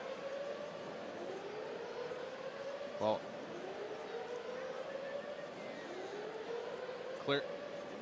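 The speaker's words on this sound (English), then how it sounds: "the lights are flashing, the sirens going off" A stadium siren at a Cardinals vs Reds baseball game wails in a slow rising and falling tone throughout, as a broadcaster talks over it.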